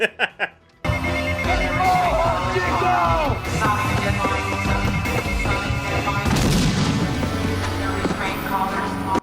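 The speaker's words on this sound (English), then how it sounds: "I love that the automatic weapons sound like spaghetti western pistols." Automatic weapons gunfire in the 1987 film The Running Man, with sharp crack-like shots that ring like old western pistols, followed by dense bursts and booms under a busy mix of music and effects, with voices mixed in.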